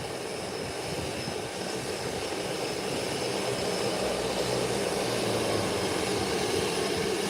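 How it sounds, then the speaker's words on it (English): A propeller airliner's engines wind down and rumble low, a broad steady drone with a faint low hum sitting under it, fairly close and constant, with no talking. "The engines are shut down."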